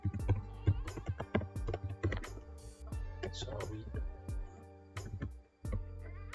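Rapid clicking of keys on a computer keyboard in irregular bursts, close and fairly quiet, with a search term typed out in a Windows settings search box.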